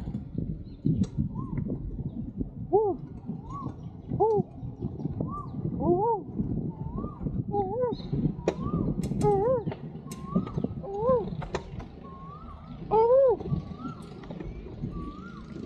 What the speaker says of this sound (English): I love these birds.